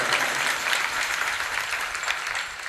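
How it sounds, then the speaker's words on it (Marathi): Audience applause for the young event organisers at a Marathi kirtan gathering, a dense, steady wash of many hands clapping that holds level throughout with no voices on top. "त्यांच्यासाठी एकदा जोरदार टाळ्या वाजवा"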